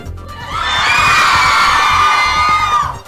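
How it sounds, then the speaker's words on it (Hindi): Audience at a Bollywood film trailer and song launch cheering loudly, a sustained roar of shouting and whooping voices that swells quickly and holds steady before dropping off. "एक बार जोरदार ताली होनी चाहिए"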